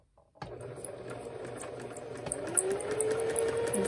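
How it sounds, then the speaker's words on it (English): A sewing machine starts up and runs steadily while stitching a curved line on a beginner sewing project, its close mechanical whir rising slightly, alone without speech. "I'm gonna go ahead and stitch my line and move my hands"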